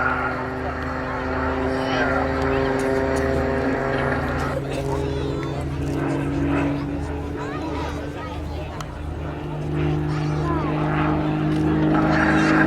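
A Muscle Pitts biplane's propeller engine drones steadily and loudly through an inverted flat aerobatic turn at an airshow, with a sustained pitch and faint crowd murmur underneath.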